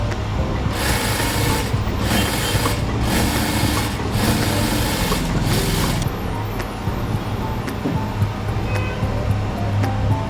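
A sewing machine runs steadily, stitching the seam of a blouse; a continuous close mechanical whirr with a rhythmic pulsing texture through the first part, then a smoother hum to the end, with no talking.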